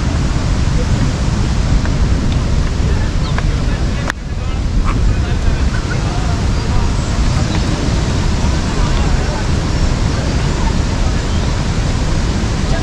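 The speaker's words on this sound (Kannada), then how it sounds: "ಡ್ಯಾಮಿಂದ ಓಪನ್ ಮಾಡಿರೋ ನೀರು ರಶ್ ಆಗಿ ಕೆಳಗಡೆ ಬರ್ತಾ ಇರೋದನ್ನು ಈಸಿಯಾಗಿ ನೋಡ್ಬೋದು" Water released through the opened gates of Nirar Dam rushes in a loud, continuous roar close by, with no break over the whole stretch.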